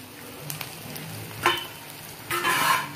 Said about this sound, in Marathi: परत एकदा आपण कांदा आणि मिरचीला परत परतून घेऊया